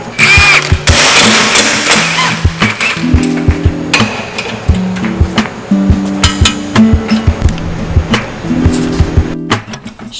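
Hammer blows drive a pickle fork to split a ball joint while 034 Motorsport ball joints go onto a Volkswagen Golf R, giving loud, irregular metallic thuds and clanks in close succession in a noisy garage.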